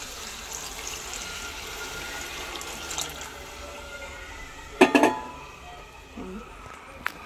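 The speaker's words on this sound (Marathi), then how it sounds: "आता आपण जो हे पाणी टाकलं होतं हे गरमच आहे. मटकी शिजवताना तोच आपण ह्याच्यात ॲड करूया." Hot water is poured into a moth bean (matki) curry for misal, a soft continuous pouring and splashing that rises to a couple of louder splashes near the end, with a voice speaking faintly at times.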